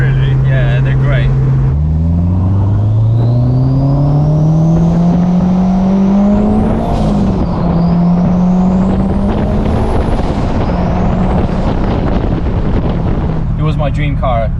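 A turbocharged Honda S2000 fitted with a Garrett turbo drives and accelerates, its loud engine note rising through several gear pulls with turbo whine climbing above, while people talk over it.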